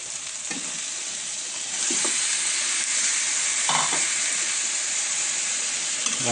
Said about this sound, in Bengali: এখন মাংস দিয়ে কষাবো